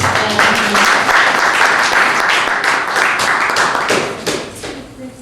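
A church congregation claps and applauds together, a dense, sustained wash of hand claps that fades toward the end, with some voices mixed in.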